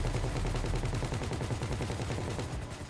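Rapid automatic gunfire during a GTA heist mission, a dense steady rattle of shots continuing throughout at moderate loudness, with no voices.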